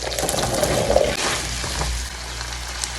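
Potatoes frying in melted butter and oil in a pan, a steady close sizzle and crackle with a brief louder burst near the start before settling into an even hiss.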